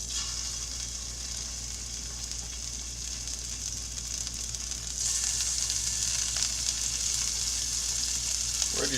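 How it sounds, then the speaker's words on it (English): Beef sears in oil in a pan, a steady close hiss and crackle of frying that grows slightly louder partway through, with no talking. "We're just going to sear the outside of this real good"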